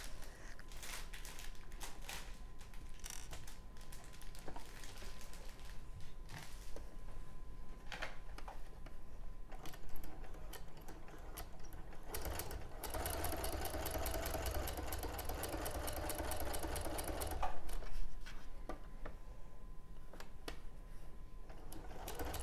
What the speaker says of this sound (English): So now I'm going to come to the other side and stitch down the other side.